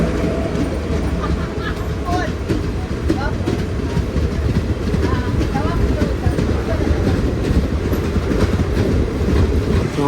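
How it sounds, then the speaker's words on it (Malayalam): A Mangalore–Chennai Egmore express pulled by a WP7 locomotive rolls into a busy station. A steady, loud rumble of wheels and carriages runs throughout with faint clatter, and voices on the platform can be heard beneath it. "മംഗലാപുരത്ത് നിന്ന് ചെന്നൈക്ക് വന്ന എക്സ്പ്രസ്സാണ് ഇപ്പോൾ വന്നത്"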